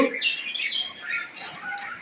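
A pet rainbow lorikeet kept indoors gives a run of harsh, shrill squawks close by. The calls are loud and continuous and come with no talking.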